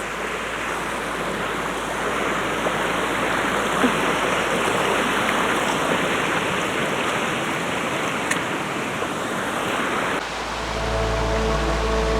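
A river stream on a hiking trail to waterfalls in Dominica rushes in a steady, broadband wash that stays loud and even for the whole stretch, with no voices over it.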